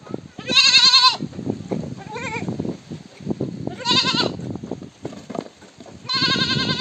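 Goats and a buck near drinking water in a village bleat loudly in several repeated bursts, with quieter rustling and shuffling between the calls.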